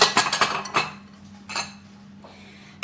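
Ceramic bowls clink and clatter against each other and a countertop in a quick burst of several knocks, then a few softer taps after a pause, set out for a homemade pistachio, mango and chocolate yogurt dessert.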